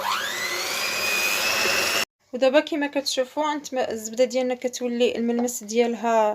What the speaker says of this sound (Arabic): انا كنقطع الطراب لان كيدير صداع